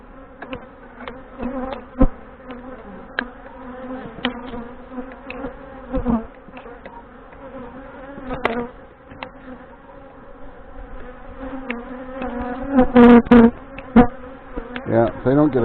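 Honey bees buzz steadily around queenless hives in late August, a dense droning hum with louder passes of individual bees swelling close to the microphone now and then.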